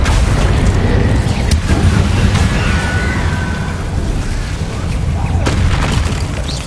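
Bombarda explosion spells in the Hogwarts Legacy video game burst with a loud, dense booming rumble that fills the whole stretch, with a voice mixed into the din.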